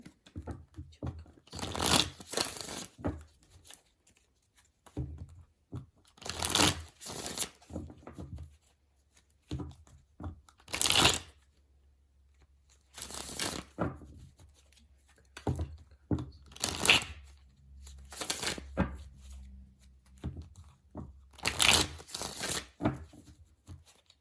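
Tarot cards being shuffled and gathered together for a love reading, heard as repeated bursts of crisp riffling and shuffling, each a second or two long, separated by brief pauses, close and fairly loud, with no talking.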